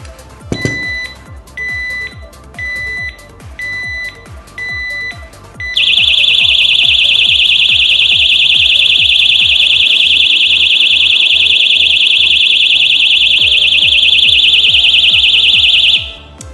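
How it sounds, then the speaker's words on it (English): Kovix KTL series motorcycle lock alarm rated at 120 decibels, a few short repeated beeps followed by a loud, continuous piercing tone that holds steady for about ten seconds, then stops. "So you can hear the 120 decibel alarm sounding that will scare off any potential thief."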